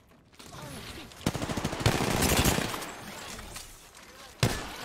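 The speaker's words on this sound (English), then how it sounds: "Getting shot at." Video game gunfire crackles in a quick burst of rapid shots, followed by a softer stretch of scattered noise and one sharp, louder shot near the end.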